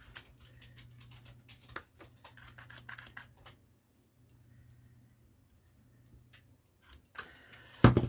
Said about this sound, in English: I'm just going to cut myself a guide